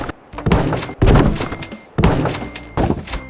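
In Fallout 4, boards are hammered onto houses in Sanctuary during settlement building. Four heavy wooden thunks land about a second apart, each followed by a short rattling decay and a faint ringing tone.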